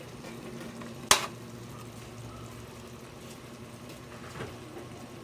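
A pot of meat bubbling at a low steady simmer while being stirred, with one sharp clank near the start.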